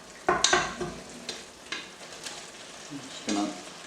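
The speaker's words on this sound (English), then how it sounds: "And then I'm going to add my pasta." Pasta going into a pan of cream sauce for salmon pasta, with soft stirring scrapes and faint sizzling, a few quiet clinks early on and then gentle irregular movement.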